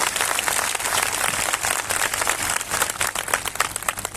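Loud, steady applause from a congregation at a Christian fellowship convention in Umarpata, dense clapping sustained throughout with no talk over it.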